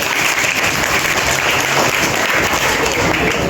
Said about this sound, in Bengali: সবাই একটু হাততালি দেয়